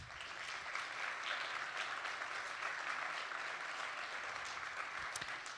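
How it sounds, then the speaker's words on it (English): Audience applause for the coaches at a nonprofit network session, an even wash of clapping heard from a distance at low volume, steady from start to finish. "Just a round of applause for these coaches that you see up here"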